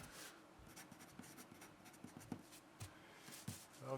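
A Palomino HB pencil scratches across paper in soft, close strokes with a few firmer taps, quiet and uninterrupted by speech.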